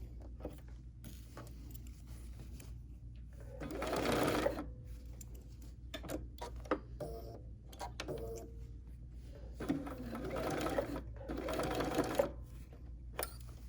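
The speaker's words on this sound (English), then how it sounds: "continuing with the sewing" A BERNINA sewing machine stitches in two main bursts of rapid whirring, with quieter pauses, small mechanical clicks and handling noises between runs; no one speaks.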